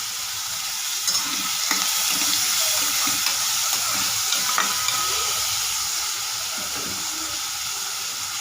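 Cut green chillies sizzle and fry steadily in a pan of hot oil for kadalai curry, a continuous close crackling hiss with occasional stirring scrapes and no talking.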